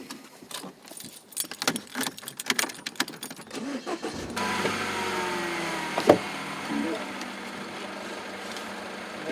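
Keys jingle in an ignition for several seconds before a car engine cranks and catches, settling into a steady idle with a brief clunk partway through.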